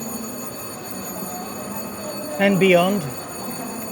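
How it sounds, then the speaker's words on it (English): A train pulls out of a Paris station bound for Nantes, rising briefly to a loud tonal squeal and rumble under steady station ambience, with a voice speaking over it. "We've got a train departing."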